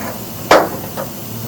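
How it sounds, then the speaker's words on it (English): A single sharp metallic hammer strike flattening VW Bus bay window sheet metal rings out, followed by a fainter second tap about half a second later, over a quiet background. "I'm going to hammer these down so that everything is nice and flat"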